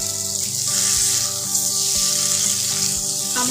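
Brinjal and eggs go into a pan of potatoes already frying, giving a loud, even hissing sizzle with a faint steady hum beneath it.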